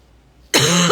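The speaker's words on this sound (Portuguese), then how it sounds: "eu tenho uma tosse recorrente de um pós-Covid" A single loud, close cough bursts out after a quiet moment, from a person with a recurring cough left over from Covid.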